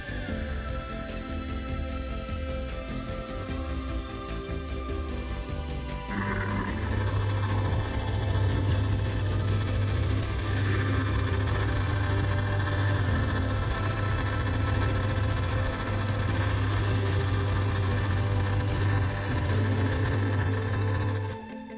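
A metal lathe cuts the face of a wheel made from flat bar steel, a steady close machining drone with a low hum that strengthens partway through and holds as the cut continues.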